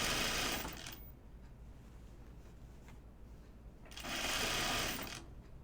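A sewing machine stitches an apron dress in two quick bursts of rapid, buzzing needle chatter, close and clear, separated by a quieter stretch of low motor hum; no one speaks.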